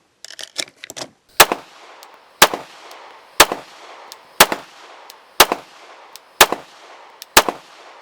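Glock Gen 2 Model 17 9mm pistol firing at an outdoor range, a quick burst of smaller pops followed by seven loud, sharp shots spaced about a second apart, each with a short echoing tail.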